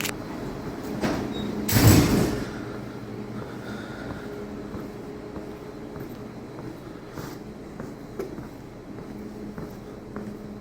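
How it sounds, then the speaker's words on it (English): A sliding door in a community college hallway opens with a single loud whoosh and clunk near the start, then a quiet building hum carries on with faint scattered sounds. "I'll open the door."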